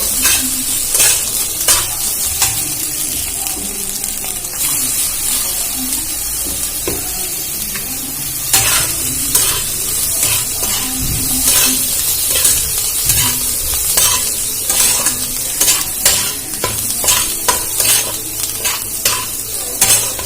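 Egg veg pasta being stirred and fried in a pan, with a steady sizzle throughout and repeated scraping, clattering strokes of a spoon against the pan, close and fairly loud, no talking.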